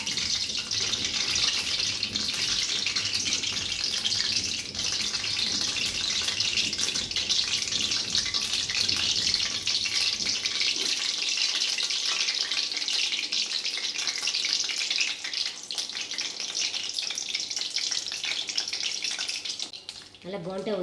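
Gram flour bondas fry in hot oil, a steady, dense sizzling hiss that carries on for about twenty seconds, bubbling near and fairly loud, with a brief clatter near the end.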